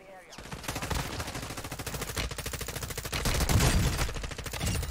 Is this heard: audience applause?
no